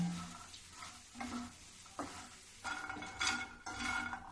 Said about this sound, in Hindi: देखो इसी प्रकार मखाना मैं भून रही हूँ